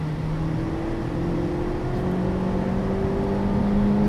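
A 2017 Honda Civic Type R accelerating from around 36 mph, its engine note a steady rising drone that climbs in pitch over a few seconds, heard from inside the cabin at moderate loudness with no talking.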